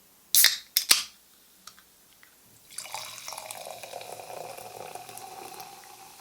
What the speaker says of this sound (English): So let's pour some out.